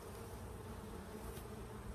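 Honeybees buzzing inside an open beehive, a steady dense hum of many wings, close and continuous with no voices.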